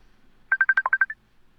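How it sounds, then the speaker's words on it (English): A quick run of about eight short electronic phone tones, beeping evenly in a tight sequence like a ringtone, heard faintly over a call line with no talk. "Now that sounded like a ringtone."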